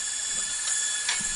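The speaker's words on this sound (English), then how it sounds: "you can hear the gas flowing right now" Steady broadband hiss of gas flowing through an atomic absorption spectrometer as air-fed flame lights, holding level throughout with a couple of brief surges, no voices.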